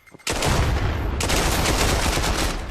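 Glock pistol gunfire in a free-for-all, pistols-only shooter game match on the Khidi map: a loud, dense, continuous barrage of rapid shots that starts abruptly after a short quiet moment and stays near and heavy.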